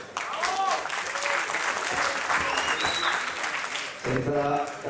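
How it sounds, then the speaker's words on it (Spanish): An audience at a beauty pageant breaks into applause with cheers and whistles, while an announcer's voice is heard amid the clapping and a brief lull near the end. "¿Dónde están los aplausos?"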